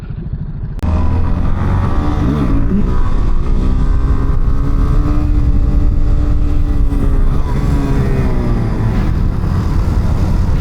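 A Suzuki DRZ motorcycle accelerates hard under a professional rider, its loud engine climbing through sweeping revs and gear changes, heard close and continuous over wind noise after an abrupt start.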